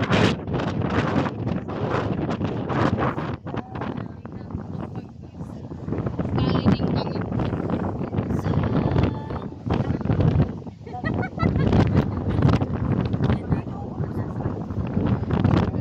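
Strong wind roars and buffets the microphone continuously at a paragliding site in Rizal, with gusty rushing and rustling, while a voice speaks briefly underneath.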